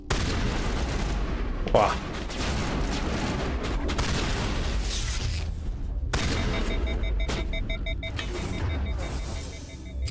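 Gunfire and booming blasts from the video game Mass Effect rattle continuously in a loud firefight, with a short exclamation from a voice near the start.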